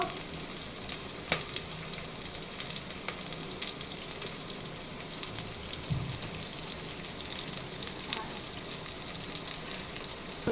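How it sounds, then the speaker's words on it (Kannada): Tomatoes sizzling in a hot frying pan on a home stove, a continuous crackling sizzle with scattered sharp pops and a few stirring scrapes, no talk. "ನೋಡ ಟೊಮೆಟೊ ಹಾಕೊತಾ ಇದ್ದೀನಿ."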